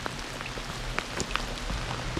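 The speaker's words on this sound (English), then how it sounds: "Rainy, muddy." Rain falling on a dark, muddy canyon trail at night in Orange County, California: a steady soft hiss with scattered drop ticks and patters, fairly faint and even, with no voices.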